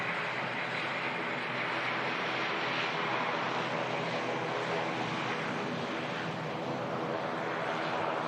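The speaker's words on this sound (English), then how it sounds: "TUI Dreamliner lining up next to go" A TUI Dreamliner lining up on the runway at Manchester Airport, a broad, steady jet engine roar heard from a distance, constant and unbroken, with no voices over it.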